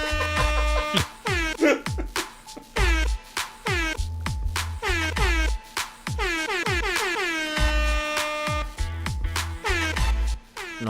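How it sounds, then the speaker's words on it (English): A mixtape track is packed with repeated blaring air horn sound effects, loud stuttering blasts with falling pitch sweeps, layered over a thumping bass beat. "is this entire track air horns?"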